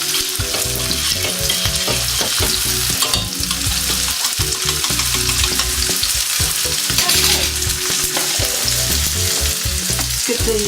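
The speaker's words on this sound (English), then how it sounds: "Give the vegetables a quick stir around." Vegetables and onions for an Italian tomato soup sizzle loudly in a pan while being stirred, a constant close crackling frying noise with scraping movement and no speech.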